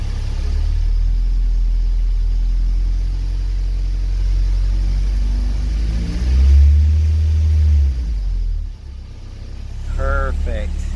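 A Honda CRX fitted with a K24 engine, freshly repaired throttle body, idles smoothly then revs up briefly in a steady low drone, heard close in a garage.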